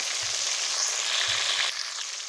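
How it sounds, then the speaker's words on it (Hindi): Chopped tomatoes hitting golden fried onions in a hot pan, a loud, bright, continuous sizzle heard up close with a few low knocks and clatters, no voices. "तो इसके अंदर हम ऐड कर देंगे काटे हुए टमाटर"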